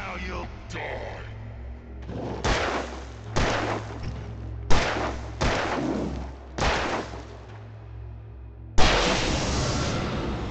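Gunfire in Alan Wake: several loud, separate shots spaced a second or so apart, each with a booming tail, ending in a heavier blast over a low ambient drone.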